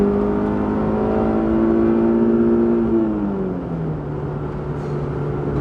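Honda S2000 engine revving high in third gear, a loud, strained mechanical whine that holds steady and then drops in pitch as the revs fall, heard from inside the car.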